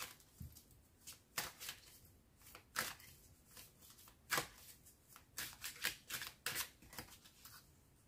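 Tarot cards being shuffled before a draw, heard as repeated crisp riffling bursts and flicks at close range, irregular in rhythm, with no talking.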